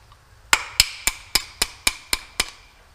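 Knockouts on an electrical panel are knocked out with a tool, making eight sharp, evenly spaced metallic taps close by with no talk.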